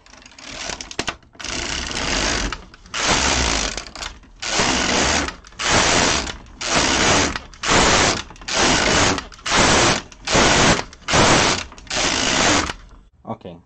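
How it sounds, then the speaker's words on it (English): A knitting machine carriage knits rows for a joey pouch, sweeping back and forth in about a dozen rasping, clattering passes with short pauses between them, in a steady, even rhythm close by. "I'm going to reset my counter again and going to knit 60 rows."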